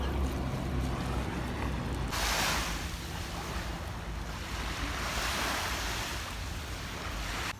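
Waves wash steadily onto a rubbish-strewn seashore, a continuous broadband surf roar with a swelling wash partway through, close and without talk.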